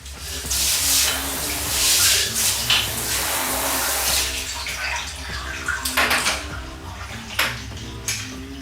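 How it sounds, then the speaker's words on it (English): Very hot water gushes and splashes into a glass mason jar holding honey, a hissing pour with clinks and rattles of glass near the end. "We're going to use some really hot water, pour it into our mason jar."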